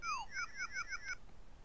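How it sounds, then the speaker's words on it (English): Whistle blown in the computer game Space Quest 2, a short series of thin, chirping electronic tones rising and falling in quick succession, then silence. "There you go. That's the sound of the whistle."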